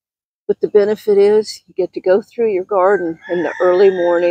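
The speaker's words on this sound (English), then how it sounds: "listen to the roosters crowing" Roosters crow in the early morning around a home garden, heard faintly in the background under a close, clear voice that talks throughout.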